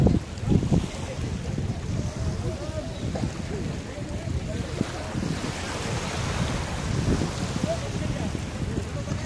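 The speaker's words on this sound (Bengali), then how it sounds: "দেখুন কি সুন্দর ঢেউ" Waves breaking on the Padma River at Moinot Ghat, a broad riverside beach, heard as a continuous rushing wash with wind buffeting the microphone throughout.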